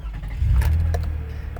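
A 2015 Toyota Sienna L wheelchair mobility van engine starts up close by. A short crank settles into a steady, deep idle rumble that holds to the end.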